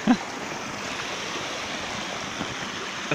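Steady rush of river water flowing during an outdoor snowball fight, moderately loud and continuous with a brief splash or thump at the start.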